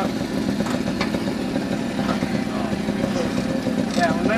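A moped fired up at a Seattle moped gathering settles into a low, steady putter, with voices talking nearby over the running engine.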